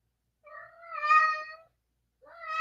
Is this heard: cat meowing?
yes